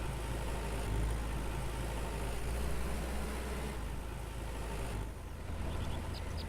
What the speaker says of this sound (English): Stop the tractor.